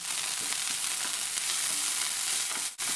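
Garlic, ginger, cinnamon, cloves and onion frying in a pan, a steady close sizzle that runs without a break and dips briefly near the end.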